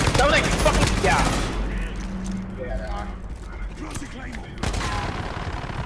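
Gunfire in a video game: dense, rapid shooting fills the first second and a half and returns near the end, with softer crackle between. A voice is present, but the clip contains no words.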